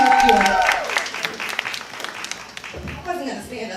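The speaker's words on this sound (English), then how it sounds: "Give her a round of applause." Audience applause greeting a special guest, the owner of a bling shop, at a women's empowerment event in Tampa: a burst of clapping at the start that thins out, with talk and crowd noise mixed in.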